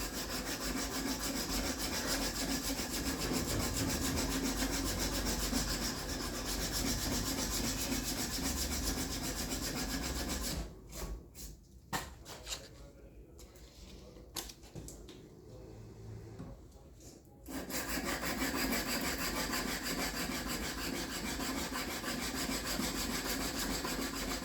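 A small metal plate scrapes along a wooden knife handle to smooth out clamp marks, producing steady, close rasping strokes that pause for several seconds midway before resuming.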